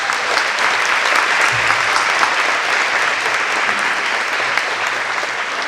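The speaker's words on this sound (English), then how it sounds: "Please give them a round of applause." A convention audience applauds a presenting sponsor, UPS, with loud, sustained dense clapping filling the hall steadily from start to finish.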